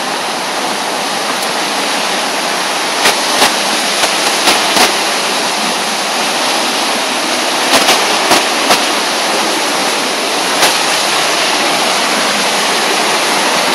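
Longgong Waterfall in Chiayi County, Taiwan, roars as a steady, loud broadband rush of falling water, with a few brief sharp knocks or clicks scattered over the continuous torrent.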